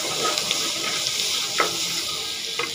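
Coriander sautéing in a pan with salt and turmeric for a chicken soup, a continuous close sizzle with a few soft scraping stirs, no talking.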